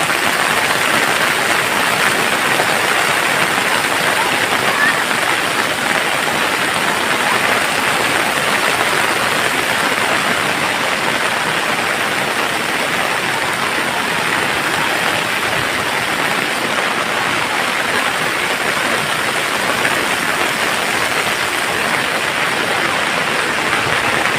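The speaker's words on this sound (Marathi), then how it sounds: "पाऊस पाणी वाढतंय पटकन" Heavy monsoon rain pours down in a constant dense hiss with the rush of rising floodwater from overflowing rivers entering a residential area, unbroken throughout.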